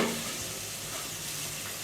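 Spices dropped into hot oil in a pan for paneer curry, giving a steady, close, even sizzle and hiss with no talking.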